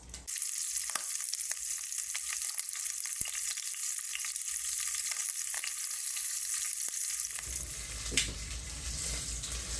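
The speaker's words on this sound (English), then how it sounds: "I'm going to brown these off, continue browning these off" Pork rind braciole browning in a pan, a steady bright sizzle that carries on without a break, with one faint clink near the end.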